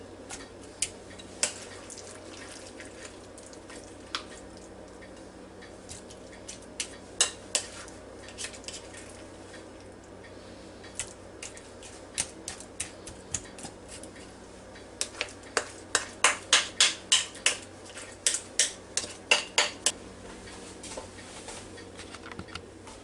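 A spoon scoops vegetable casserole into a 7-cup Anchor Hocking glass bowl, producing scattered sharp clinks and taps that quicken into a run of regular knocks near the end, close and fairly quiet over a faint hum.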